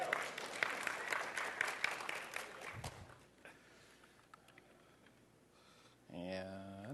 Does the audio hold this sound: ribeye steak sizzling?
no